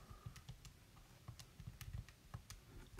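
Quiet, rapid tapping of calculator keys as numbers are entered, a string of light clicks in an uneven rhythm, close by with no talk.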